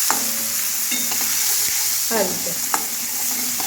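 Sliced onion with a spoonful of turmeric sizzles in oil for an onion-potato curry. A constant hiss carries a few spatula knocks and scrapes as it is stirred, and a voice speaks briefly.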